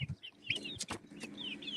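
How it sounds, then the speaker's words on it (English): Barred Rock roosters and hens on a backyard flock cluck and crow in short bursts, with a couple of loud nearby calls among softer clucks and bird chirps. "We got 3 barred rock roosters"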